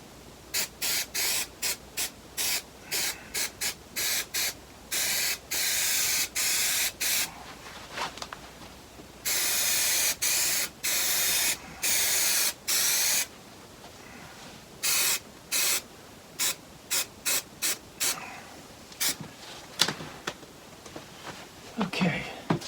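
Repeated short bursts of hissing spray adhesive from an aerosol can, close and loud, in quick pulses and a few longer sprays, with quieter pauses between.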